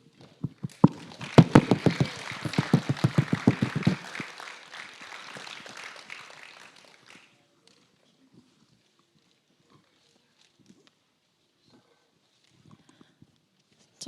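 An audience applauding at a film festival grand final in a cinema, a burst of dense, loud clapping that swells then fades out over several seconds, followed by near silence.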